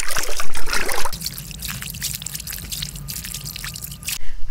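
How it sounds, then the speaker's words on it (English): Laundry being rinsed by hand in a tub of rinse water, with soft, close splashing and trickling as clothes are moved and agitated, then a steadier gentle dribble of water running off the fabric. "now our clean laundry is in our rinse water, and now you're just going to want to rinse it by hand"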